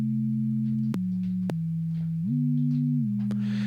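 Low sustained bass tones stepping between a few pitches with brief clicks at the changes, thin and buzzy like a small speaker.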